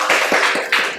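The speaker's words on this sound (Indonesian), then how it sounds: "Kasih aplaus untuk kelompok A." A workshop group receives brief applause, a short burst of several hand claps at close range.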